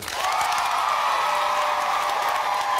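A theatre audience applauds and cheers at a Harry Potter and the Cursed Child event in Australia, a steady, dense wash of clapping and whoops that swells in and holds at full loudness throughout.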